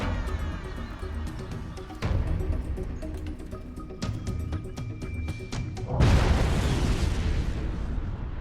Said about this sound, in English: 10 kilograms of high explosive have been laid